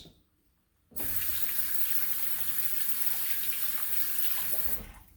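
A tap is turned on and runs into a sink to wash chromatic harmonica parts, a Suzuki SCX. The water gushes loudly and steadily for about four seconds before shutting off.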